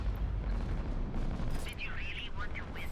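The Colossus ship's weapons fire in Fractured Space, booming blasts in a dense rumbling barrage with a few brighter electronic tones, close and loud.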